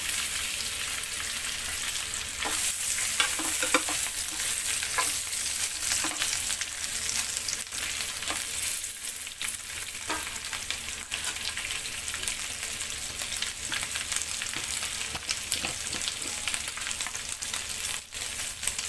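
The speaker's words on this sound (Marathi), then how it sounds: "बटर आणि तेलामध्ये आपण हे बटाटे शॅलो फ्राय करून घेणार आहोत" Potatoes shallow-fry in butter and oil for a dhaba-style dum aloo, a steady close sizzle and crackle with occasional sharper pops, continuing evenly throughout without talk.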